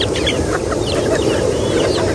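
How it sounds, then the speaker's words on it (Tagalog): A flock of hungry chickens clucking and murmuring close by, a dense continuous chatter of many birds with no voices. "At ayan ang mga alaga ni Bossing na manok"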